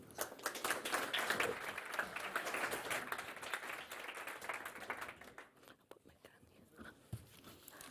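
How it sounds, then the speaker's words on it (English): An audience at a startup tour grand final applauds a founder coming on stage, moderately loud clapping that thins out and fades, with quiet talk and murmuring near the end. "So big applause."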